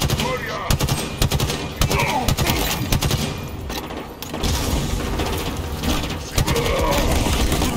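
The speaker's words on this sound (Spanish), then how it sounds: "¡Atentos, los disparos!" Rapid automatic gunfire from Halo Infinite combat, dense bursts of shots layered with mechanical clatter and game effects, loud and continuous with brief pauses, while voices shout over it.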